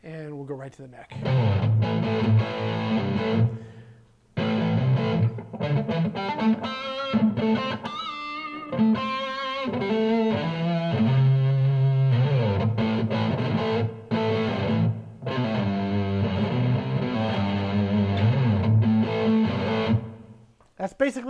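A heavily distorted Squier Telecaster electric guitar on its neck pickup plays a warm, bassy riff with sustained chords and quick single-note runs, loud and continuous.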